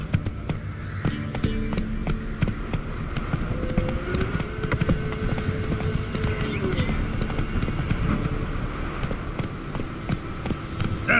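Roach the horse galloping in The Witcher 3, a steady rapid thud of hooves running under continuous game ambience and music, moderately loud and close throughout.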